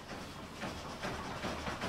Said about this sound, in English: Noah puts his plan into action as the royal train approaches quickly.